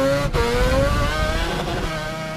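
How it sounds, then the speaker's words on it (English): A Mazda rotary-engine car revs steadily and loudly up close, a dense buzzing engine note that rises slightly in pitch across a couple of seconds with no voices. "The unique design gives the Rotary a very unique noise, one of the biggest reasons people still love them today."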